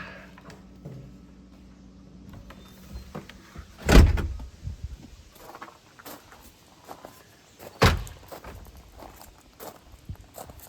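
A door is pulled shut, giving two heavy thuds a few seconds apart against quiet background shuffling and light handling noises.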